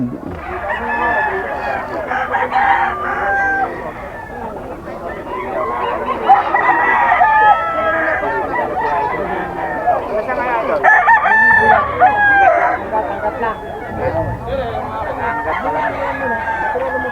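A young rooster, a stag, crows repeatedly at a crowded Bocaue pet market before Christmas, with loud, close cock-a-doodle-doo calls, clucking and other fowl noise mixed with nearby chatter.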